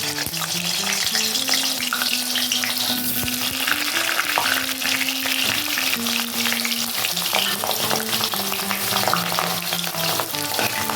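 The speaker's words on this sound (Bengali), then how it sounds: "প্রথমে আমি আলুটা ভেজে নেব" Potatoes fry in hot oil in a pan with a steady, loud, continuous sizzle and occasional stirring scrapes, close up and without any voices.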